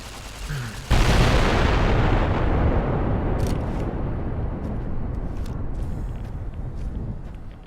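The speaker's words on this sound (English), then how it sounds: "We'll blow this thing up and we'll be right outside the cave." A loud explosion goes off in the video game Fallout: New Vegas, a sudden heavy blast that rolls on into a long roaring rumble and debris noise lasting several seconds, with no voices over it.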